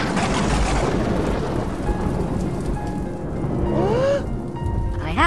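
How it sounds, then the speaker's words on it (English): Steady rain pours throughout with low rumbling thunder beneath in the video game Roblox Brookhaven, while a few bright tonal chirps and swoops rise near the end. "It's raining!"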